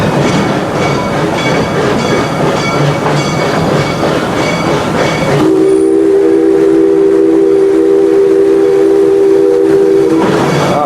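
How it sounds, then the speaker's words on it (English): Pandemonium spinning roller coaster at Six Flags St. Louis, a loud, steady rumble and roar of the ride running close by, with a sustained whistling tone in the second half. "the roller coaster to your right, pandemonium"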